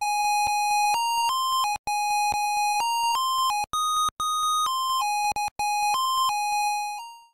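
Bright chiptune melody from the Game Boy game Kirby's Block Ball, a single square-wave lead stepping through a phrase in short held notes with brief gaps, loud and alone with no voices.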